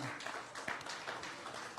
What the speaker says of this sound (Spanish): Si usted lo que cree, déle un aplauso